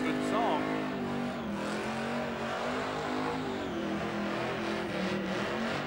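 A supercharged car engine revs hard at a Summernats burnout elimination, a loud sustained roar with faint tire squeal, while an announcer talks over it.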